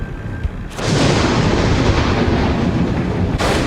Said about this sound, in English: What an amazing show of force. I just love a good thunderstorm